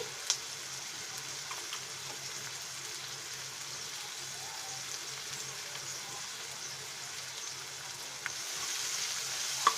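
A soft, steady sizzle of chopped garlic frying in oil runs throughout, with a few faint clicks and taps of utensils against the pan.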